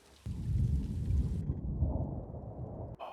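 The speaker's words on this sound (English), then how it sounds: "Oh, listen to that thunder." Deep, rumbling thunder rolls through a storm in a video game, with a heavy low roar that swells and lingers for a few seconds over a hiss of rain before briefly cutting off.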